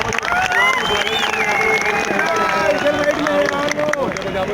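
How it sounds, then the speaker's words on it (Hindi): A large crowd at a speech event in Dehradun claps and cheers continuously, a dense roar of applause and shouting voices with whistles and calls rising over it throughout. "तालियां बजा रहे हैं हमारे यहाँ से"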